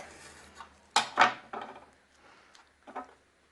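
A knife cuts through a homemade sushi roll, a few soft, close knocks and scrapes on a wooden board, two sharper strokes close together then quieter taps, with no talking.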